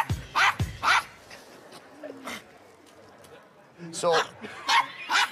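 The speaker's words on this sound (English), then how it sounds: "It's a Yorkshire Terrier." A Yorkshire Terrier barks in short sharp yaps, several bursts at the start and again at the end, close and loud, with a brief spoken word mixed in.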